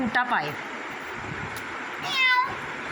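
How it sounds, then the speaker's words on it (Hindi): A cat meows twice, a short cry at the start and a longer one near the end, with soft background noise between. "ये लो बिल्ली कैटो कैटो।"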